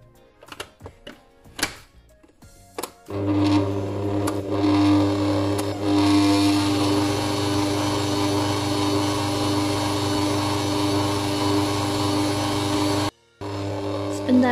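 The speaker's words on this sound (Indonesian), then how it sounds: "Kita mixer lagi sebentar untuk meratakan aja." An electric hand mixer blends butter into cake batter with a steady, loud whirring hum that runs for about ten seconds. Scattered clinks and taps come before it, and it cuts out briefly near the end.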